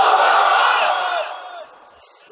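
Crowd at a religious gathering chanting the takbir, Allahu Akbar, one loud massed shout that swells at once and then fades away over about a second and a half.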